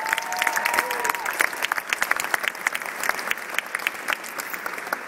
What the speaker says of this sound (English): a round of applause for the Smithsonian staff